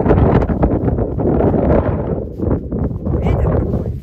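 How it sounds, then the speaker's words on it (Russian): Blustery wind buffets the microphone in loud, uneven gusts, a low rumbling roar that swells and dips throughout. "Ветер"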